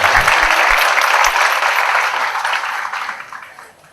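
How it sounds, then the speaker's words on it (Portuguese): A hall audience at an architecture lecture breaks into steady, dense applause, loud and close at first, then thinning and fading out toward the end. "Uma salva de palmas para a Paisani."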